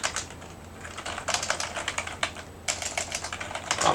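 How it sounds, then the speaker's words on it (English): Quiet, fairly continuous clicking of keys on a computer keyboard, with a short pause midway before the tapping resumes; no one speaks. "Now you notice we're typing the same thing a lot"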